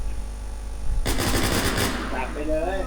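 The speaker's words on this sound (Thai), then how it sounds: "เขายิงเข้ามาอีกแล้ว" Rapid automatic gunfire from an enemy in a video game erupts loudly after a second of background hum, a dense burst lasting about a second before fading into game noise.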